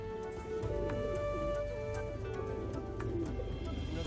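Pigeons coo softly in low, rolling calls, repeated through the stretch with faint chirps and background sounds around them.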